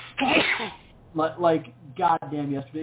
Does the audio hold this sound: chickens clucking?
no